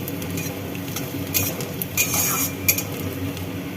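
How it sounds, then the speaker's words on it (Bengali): A spoon scrapes and clinks in a pan as fried onion and black cumin seeds are stirred. The taps are light and irregular over a low steady background hum. "এবার নেড়ে নিচ্ছি।"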